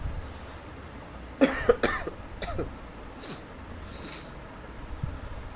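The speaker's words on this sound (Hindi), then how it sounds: "खांस भी रहा हूँ ना" A sick man with a sore throat coughs a few times in a quick cluster, close and fairly loud, then gives fainter throat-clearing coughs against a quiet room with faint insect chirping.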